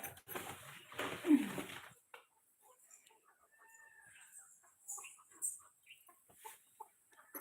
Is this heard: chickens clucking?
yes